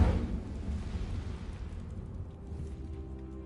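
A fire spell, Incendio, cast in the Hogwarts Legacy video game: a loud whooshing burst at the start that settles into a rumbling, roaring flame which slowly fades over a few seconds, with no talking.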